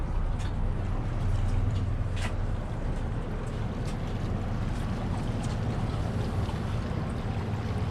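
Twin engines on a 2015 Grady-White 307 Freedom boat running under autopilot at sea, a steady low drone mixed with wind and water rush, no voices.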